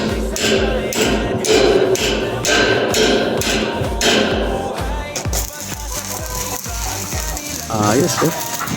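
A steel clamp hammered onto a tubular frame on a house terrace under construction, a run of loud, sharp metallic strikes in a quick rhythm, then scattered clanks and handling noise with voices nearby.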